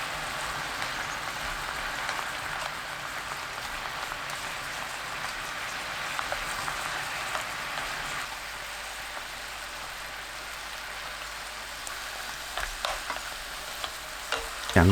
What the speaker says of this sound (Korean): 바글바글 끓으면 이면수 넣고 중불로 뒤집어가면서 수분을 날립니다.